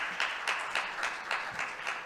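Applause from a conference audience after a talk on dental practice leadership, steady clapping with rhythmic swells at moderate distance, no voices over it.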